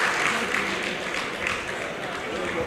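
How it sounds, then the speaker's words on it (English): Applause for the Controller General as he takes his seat at a decoration ceremony for newly promoted service officers and men, a short, even burst of crowd clapping heard from a distance. "Please, a round of applause for the Controller General as he takes his seat"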